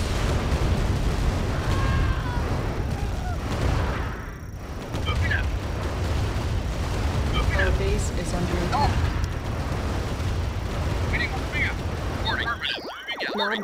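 Repeated explosions and booms as a base comes under attack in the video game C&C Tiberian Dawn, heavy rumbling blasts layered with pops and crackles, loud and continuous, with game voice announcements over them.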